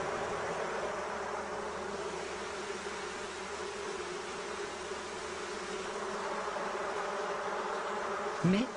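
A steady, dense honeybee buzz fills the whole stretch around a hive, many bees droning close by, with a brief louder swoop near the end.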